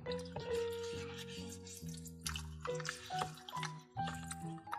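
Water rinsing paint from a toy Disney princess doll's red hair during bath play, with irregular drips, splashes and squishy liquid sounds, close and faint, no talking.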